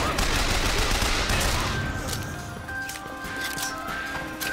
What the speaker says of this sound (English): he had a volley gun